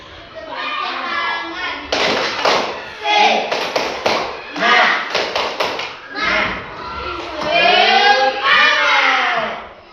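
A class of children does rhythmic tepuk semangat clapping in an Indonesian-language lesson, led by one pupil: patterned bursts of hand claps and taps mixed with children chanting along, loud and close.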